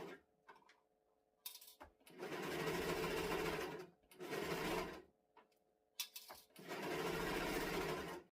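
A serger stitches dress fabric in three loud, steady whirring bursts, each a couple of seconds long, separated by brief quiet pauses with faint handling noise.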